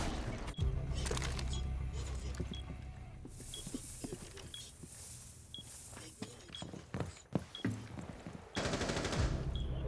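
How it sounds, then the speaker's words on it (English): Rapid automatic gunfire and scattered single shots from a shooter video game run through the whole stretch, loud and dense, with a voice talking over the action. "they're just shooting at walls."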